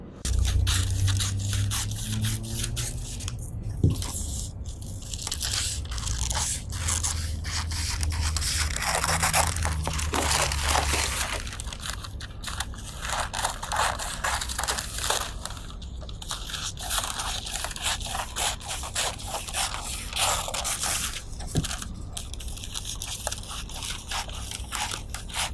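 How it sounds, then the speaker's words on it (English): Fabric for the front piece of a classic double-breasted jacket is cut with shears, giving steady crunching, scraping snips that run continuously and close up, with no talking. "Next, I need to cut the front."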